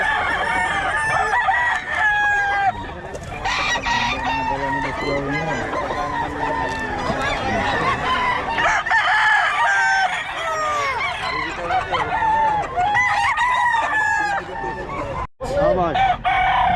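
A Sweater Gilmore gamefowl rooster crows repeatedly, loud and close, amid other roosters crowing and clucking at a gamefowl farm, with people talking at times under the birds.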